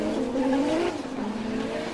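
A drift car launching off the line at a competition, its engine roaring and rising in pitch while the tires squeal, loud and close, then easing slightly as it pulls away.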